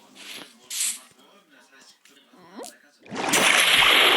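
Water splashes loudly in the Minecraft video game as a character bathes: a sustained, dense splashing burst near the end, after a stretch of talking with a few small game sounds.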